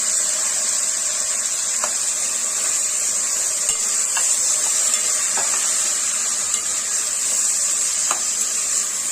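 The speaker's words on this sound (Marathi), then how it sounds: "तेलामध्ये छान असे परतून घ्यायचे।" Capsicum, carrot, tomato and peas sautéing in oil, with brinjal slices alongside, give a steady bright sizzle that runs evenly the whole time, broken by a few faint clicks of stirring.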